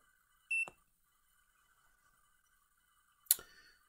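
An MTG-99 gauge switched on by holding its F1 button gives a short electronic beep, followed after a pause of almost three seconds by a sharper click-like tone, both close and clear against near silence.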